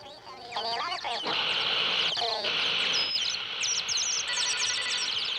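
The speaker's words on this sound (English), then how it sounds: "Get those blasted birds off my antenna!" Cartoon birds chirp and tweet on a TV antenna, a busy flurry of bright calls that continues steadily, partly with a quacking, duck-like tone.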